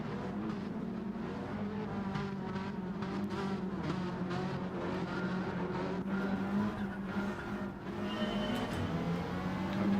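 A Lancer engine racing in Gran Turismo 7, a steady loud drone that rises and falls through gear changes, with some tyre squeal, heard close and continuous with no talk.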